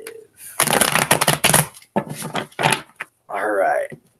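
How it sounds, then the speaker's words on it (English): Tarot cards are shuffled by hand in several quick riffling bursts with brief pauses between them, close and clear, followed by a softer whirring noise. "All right. One more shuffle."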